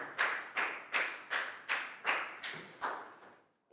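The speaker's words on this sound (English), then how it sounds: "Big round of applause" Steady, evenly spaced claps, about nine in a row, each sharp and ringing briefly, like a slow rhythmic round of applause in a Year 4 classroom.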